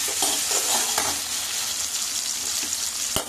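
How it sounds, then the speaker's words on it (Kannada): Spices for a tempering sizzle and crackle in hot oil while dal sambar is being made, a steady close frying hiss with small pops and a sharp spatter near the end, and no voices. "ಇವಾಗ ಒಗ್ಗರಣೆಗೆ ಹಾಕ್ತೀವಲ್ಲ"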